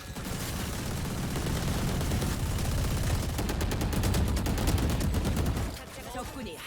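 Rapid gunfire in the tactical shooter Valorant, a dense stream of shots sustained for over five seconds and then cutting off, layered with game effects and a talking voice.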